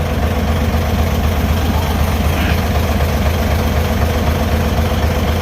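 A car engine with an air suspension setup idles steadily, a loud, even low rumble with a constant vibration throughout and no pauses.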